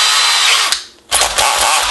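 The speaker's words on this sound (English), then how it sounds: "Take your cordless drill like this and take the plunger and put part of it in the chuck" A cordless drill spins the plunger from a 1950s NuTone K model two-note long-tube door chime held in its chuck, making a loud, close whirring whine that drops off briefly before spinning back up.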